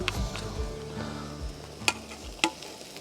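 Pancakes sizzling in a hot frying pan at a bushcraft camp at night, a steady near crackle with low rumbling underneath and a couple of sharp clinks or pops.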